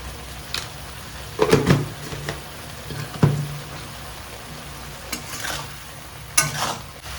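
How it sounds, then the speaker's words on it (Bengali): Spice paste for a Bengali raw banana fish curry sautéed in a pan with a splash of water over medium flame, a spoon scraping and stirring in irregular strokes over a low, steady sizzle, with no voices. "এজন্য জল দিয়ে কষানো খুব দরকার।"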